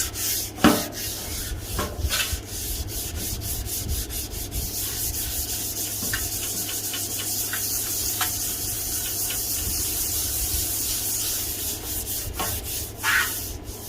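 A DA sander works steadily over the metal gas tank of a Farmall Super A tractor, giving a continuous loud rasping hiss. It is broken by occasional sharper scrapes and knocks, with no talking.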